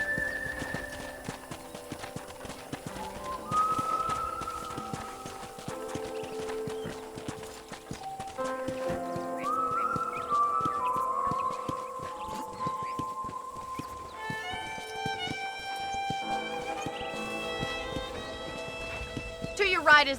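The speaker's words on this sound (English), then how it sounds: "let's see if you can still ride a horse." Rhythmic horse hooves clip-clop steadily as a horse is ridden around a ranch in Red Dead Redemption, set under game music with a voice talking over the ride.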